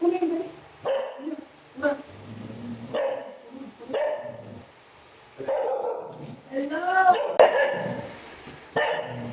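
A dog barks angrily at a returning man, close-up, in repeated short bursts with yips and whimper-like growls, interspersed with people talking.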